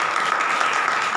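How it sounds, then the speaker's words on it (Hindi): A church congregation claps together after a prayer, a steady dense wash of hands lasting the whole brief moment with no gaps or individual claps standing out. "सारे प्रभु के लिए ताली बजाएंगे।"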